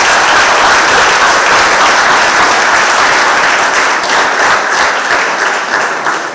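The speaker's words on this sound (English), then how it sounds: "A round of applause, please." Delegates at a constituency annual conference of the PNM in San Fernando East clap in a loud, continuous round of applause that holds steady for several seconds before easing off.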